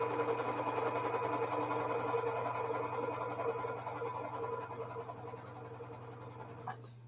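A sewing machine runs steadily while stitching two paired quilting fabrics along the diagonal, a continuous close whir with a faint background hum and a small click near the end.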